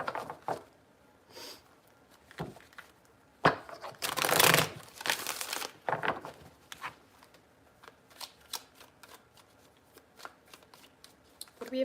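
Tarot cards are shuffled in several bursts of riffling and flicking, with soft pauses between, close and clear, no voices.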